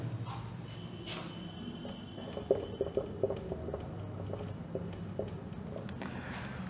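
Marker or chalk scratching across a board during a physics lesson on simple harmonic motion, a run of short quick strokes and taps in the middle over a steady low background hum.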